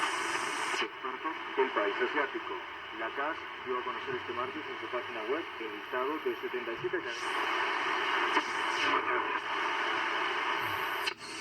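A Sony ICF-SW12 shortwave radio plays a broadcast voice through hiss and static, the signal drifting and crackling, with a burst of noise near the end.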